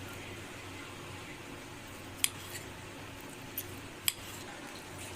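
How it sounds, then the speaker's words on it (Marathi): A knife cuts roasted tomatoes with their skins on, giving a few sparse, sharp taps against the board, quiet over a low steady background hum. "आता आपल्याला हे भाजलेले टोमॅटो त्याची साल न काढता चिरून घ्यायचे आहेत"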